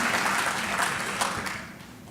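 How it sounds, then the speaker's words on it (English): A lecture audience at a transportation engineering event breaks into a dense wash of applause that starts full and gradually fades over about two seconds, with no voices on top. "Y'all are supposed to applaud."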